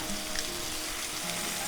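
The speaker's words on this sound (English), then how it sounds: "Grab your cabbage wedges. We're gonna set these right down into the bacon grease." Cabbage wedges searing in bacon grease in a pan, giving a soft, even hiss of frying that holds steady and fairly faint with no voices over it.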